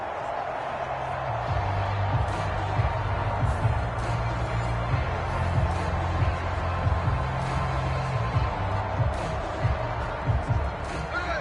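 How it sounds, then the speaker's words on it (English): Stadium crowd noise in a Madden NFL 25 Seahawks versus Browns game: a constant loud roar with swelling cheers and sharp thumps, running under the voice of a play-by-play commentator. "That just means this crowd's going to get even louder"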